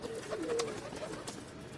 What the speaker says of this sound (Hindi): कबूतर देख लीजिए आप, ये सामने है आपकी, छोटी सी जान है